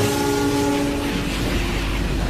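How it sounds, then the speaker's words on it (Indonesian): A train rolls close past with a sustained, loud horn blast over the continuous rumble and clatter of the wagons, with no talking. "nyata banget tuh kereta ngelewatin kita"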